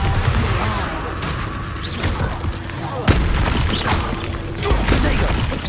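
An Expulso explosion spell is cast in the Hogwarts Legacy video game, a dense booming blast with one sharp crack near the middle amid continuous rumbling magical combat noise.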